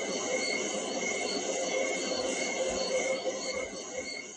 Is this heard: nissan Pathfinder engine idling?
no